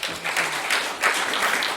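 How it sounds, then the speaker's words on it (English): Brief burst of audience clapping at a horror film festival Q&A, fairly close and even, with small surges over the short stretch. "can we get a round of applause?"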